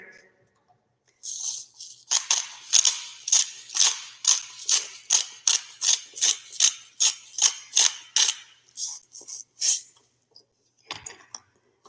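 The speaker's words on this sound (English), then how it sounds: "I have to use my both hands to get the salt from the grinder" Salt grinder worked with both hands, giving a run of about fifteen rhythmic crunchy grinding bursts, steady and fairly close, then a few scattered fainter clicks at the end.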